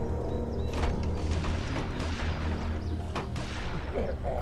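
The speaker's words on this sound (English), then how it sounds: "Someone was shooting a gun from somewhere else and they are attracted to sound." Distant gunfire in The Walking Dead Season 1 video game: a series of scattered, muffled shots and booms echoing from afar over a low mechanical rumble and creaks, without speech.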